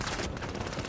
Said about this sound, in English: An invisible person shot me in the back.